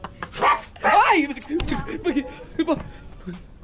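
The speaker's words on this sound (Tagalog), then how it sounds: "Tapang ng aso nila." A dog barks and yelps in a couple of short sharp bursts near the start, then people keep talking close by as the barking fades.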